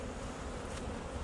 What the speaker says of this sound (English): If I were you, I would brush the bees off.